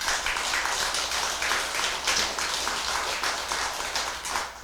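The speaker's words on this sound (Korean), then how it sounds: "그 박수는" An audience in a Buddhist lecture hall claps together, a steady, moderately loud wash of applause sustained for several seconds with no talk over it.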